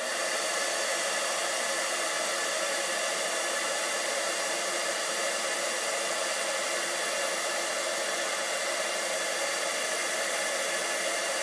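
A heat tool blows hot air steadily to melt embossing powder on a Valentine's card project, a constant broadband hiss that holds unchanged throughout, close and loud with no talking.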